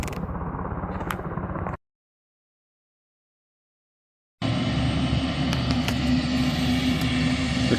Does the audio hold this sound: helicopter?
yes